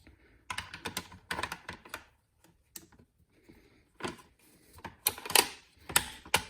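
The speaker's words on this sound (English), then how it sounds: "I'm going to put the bolt back in." Bolt of a Sig Cross bolt-action hunting rifle slid back into the receiver: a few short clusters of sharp metallic clicks and rattles, close and fairly loud, separated by brief quiet gaps, with no talking.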